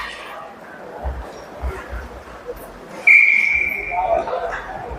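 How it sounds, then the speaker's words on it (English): A referee's whistle blows sharply to stop play at a youth ice hockey game, one loud clear blast over rink crowd noise and a commentator's voice, with scattered thumps from sticks and boards. "And we get a whistle."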